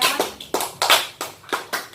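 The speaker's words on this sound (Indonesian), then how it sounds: "beri tepuk tangan kepada Zahra ya" A small classroom group claps for a student, giving about eight loud, close bursts of clapping in a quick, uneven rhythm with short gaps between them.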